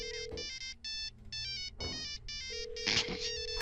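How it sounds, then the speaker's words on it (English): A flip phone ringtone in the video game Lethal Company plays a repeated electronic melody of bright tonal bursts, with a sustained beep underneath, clear and up close. "I called at the same time I hit your ringtone through the phone"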